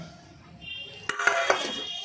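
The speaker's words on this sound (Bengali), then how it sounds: "এই সারাশি আনি নেই দাঁড়াটাকে নামিয়ে নিই" A metal pot of fish curry is lifted off the stove with tongs on a rooftop kitchen, giving a couple of sharp metallic clinks and scrapes close by after a quiet start.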